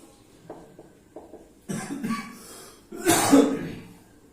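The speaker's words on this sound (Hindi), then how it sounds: "सर आप खांस रहे हो" A few soft throat sounds, then two bursts of coughing, the last one loud and harsh, close to the microphone with no talking.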